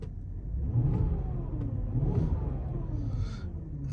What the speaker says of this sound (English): I'll very quickly give it a rev while I've got the radio off.